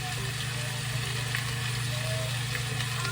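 Chicken meat sizzling steadily in a hot frying pan as it is turned over, a continuous close frying hiss with no talking.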